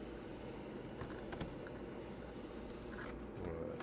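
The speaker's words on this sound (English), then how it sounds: "As you can see, I'm actually just spraying it through, and we're going to flush some clean water through until she's empty." An airbrush sprays clean water through to flush itself out, giving a steady, quiet airy hiss that cuts off sharply near the end before a brief resumption.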